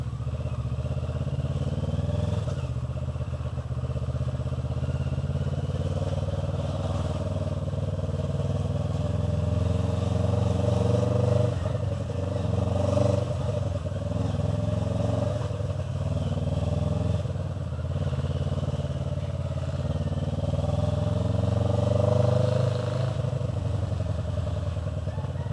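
A motorcycle rides along to warm up its tires, suspension and brakes, giving a steady engine drone with small surges and faint wind and road clatter throughout.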